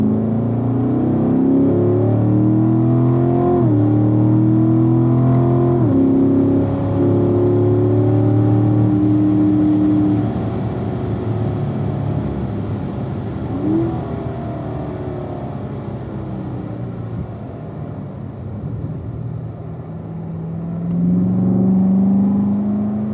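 Corvette on a race track accelerates through a corner, engine rising in pitch over several seconds, easing off, then building again near the end, heard from inside the car with no talk.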